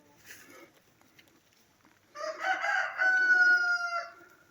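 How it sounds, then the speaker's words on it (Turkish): A young rooster crows once, a strained, rising call held for about two seconds, close by, after some faint clucking from hens let out to eat green grass after rain. "genç horozumuz"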